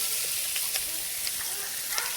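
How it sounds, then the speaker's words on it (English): Garlic and other aromatics sizzle in a hot pan, a dense steady hiss broken by a few tiny pops and crackles. "These are just the aromatics. we're frying up to release the flavor."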